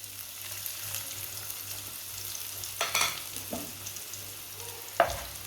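Finely chopped onion frying in very hot oil with whole cumin, a quiet continuous crackle and fizz punctuated by a few brief spatula scrapes, close and alone without speech.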